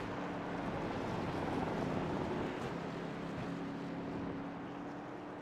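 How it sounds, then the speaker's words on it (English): Truck engine in a sim racing game at the Circuit of the Americas, a continuous droning motor hum with a steady low tone, held at an even level throughout with no talk over it. "I can hear his truck right now."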